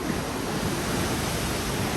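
Sea water and waves churning alongside a ferry crossing from Rosslare to Bilbao, a steady, loud broadband wash with wind buffeting the microphone, continuous throughout with no speech.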